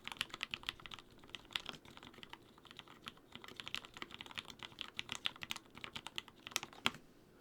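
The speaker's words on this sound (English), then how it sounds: "Now if I was a soft typer," Gentle typing on a keyboard, the keystrokes quieter and softer but still rapid and steady, heard close with no talking.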